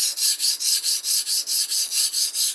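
A kitchen knife is stroked back and forth on a wet whetstone in a steady rhythm of about a dozen bright, gritty scrapes, close and even, with no talking.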